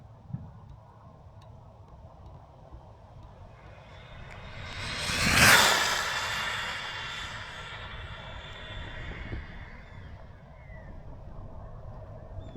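Rlaarlo SBK10 RC buggy with a Castle Mamba X8S system on a high-speed run, its whine rising from a distance to a sharp loud pass at close range, then fading away.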